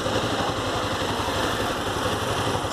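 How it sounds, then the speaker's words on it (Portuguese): A motorcycle carrying two riders on a city street idles nearby, its engine a steady, buzzing rumble with fast regular pulsing, continuous and moderately loud over street noise. "Dois moleques numa moto aqui, ó."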